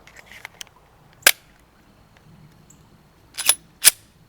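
A Glock 34 Gen 3 pistol fires three sharp, loud shots: one alone, then after a pause two more in quick succession. Faint clicks and handling noise come between the shots.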